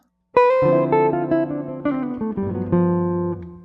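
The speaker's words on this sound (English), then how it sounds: "Our second line is a great 2-5 line and sounds like this." A melodic jazz ii-V line on a clean-toned instrument, a string of distinct notes moving through chord changes with sustained, ringing tones, played alone.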